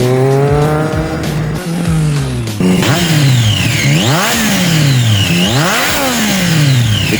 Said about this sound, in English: This 765cc triple engine isn't just another lump of metal that makes power.